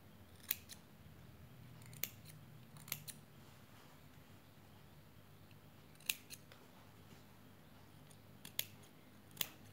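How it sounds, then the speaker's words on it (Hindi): Scissors snipping the corners of a cotton fabric face mask, a series of quiet, sharp single and double clicks spaced irregularly over a faint low hum, with no talk. "ये कॉर्नर से थोड़ा थोड़ा काट देंगे"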